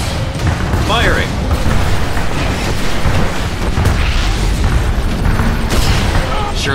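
A rocket launches and explodes in Command & Conquer Tiberium Wars, with heavy booms and rumbling blasts among battlefield noise, loud and dense, while game voices chatter over it.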